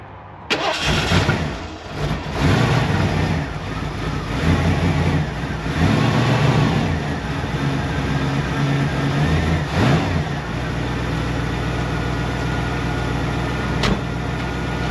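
A 1978 Lincoln Continental with a 460 V8 cranks and catches, then settles into a loud, rough idle with a few uneven surges before steadying into a continuous low rumble.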